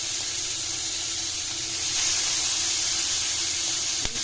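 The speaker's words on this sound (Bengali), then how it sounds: "ইলিশ মাছটা নুন হলুদ মাখানো আছে, আমি ভেজে নিচ্ছি ইলিশ মাছটাকে।" Hilsa fish coated in salt and turmeric frying in hot oil, giving a steady broad sizzling hiss that swells slightly halfway through, close and continuous with a single sharp tap near the end and no talking.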